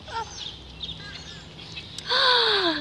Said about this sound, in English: Look, the birds are eating it.